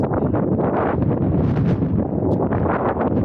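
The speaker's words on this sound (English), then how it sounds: "It's dramatic when it's windy." Strong wind buffets the microphone on a hiking trail in Iceland's Southern Highlands, a loud continuous roar with gusting rumble throughout and no voices.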